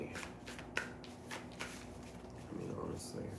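Tarot cards shuffled by hand, soft riffling and sliding bursts with a thicker rustle near the end, quiet and close.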